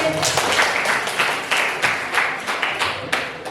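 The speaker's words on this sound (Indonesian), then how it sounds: "tepuk tangan untuk Putri" Students in a ninth-grade civics class clap for a classmate, giving close, lively applause with sharp individual claps standing out over a dense patter from many hands.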